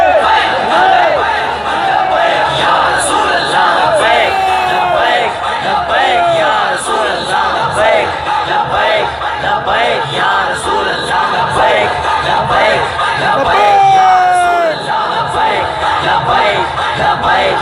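A huge crowd at a religious gathering in Karachi chants slogans in loud, continuous massed roars and rhythmic shouts, dense and overlapping, with no single voice standing out.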